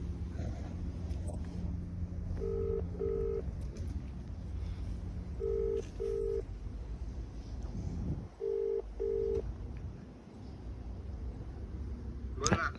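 A phone call's ringback tone sounds three times, each a pair of short buzzing rings, over quiet background noise.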